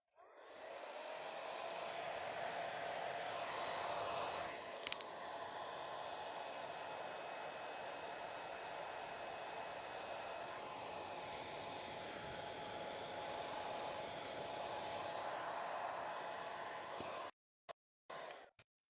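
Hair dryer blowing air onto wet paper, a loud continuous whooshing hum that runs steadily for about seventeen seconds, then cuts off abruptly into near silence.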